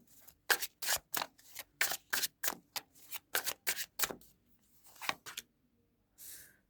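Tarot cards riffled and snapped one after another in a quick, even run of crisp papery bursts, close and fairly loud, ending with a few slower draws and a brief soft rustle.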